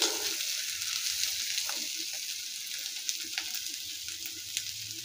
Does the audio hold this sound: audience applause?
no